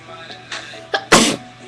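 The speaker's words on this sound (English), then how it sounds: "I just sneezed" A sudden human sneeze, preceded by a couple of short sharp inhales and ending in a loud close burst, with no talk.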